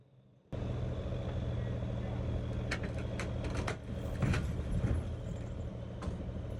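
Two large semi-wrecker tow trucks slowly winch cables to right an overturned semi on Christmas evening, a loud diesel engine drone with metallic clanks and squeals layered over it.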